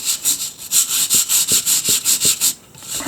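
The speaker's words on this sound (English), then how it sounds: "Let's clean this rock up. Take this scrubber brush." A scrubber brush is rubbed back and forth on a rock holding a fossil shark from Lebanon, about a dozen quick, even, raspy strokes up close before a brief pause.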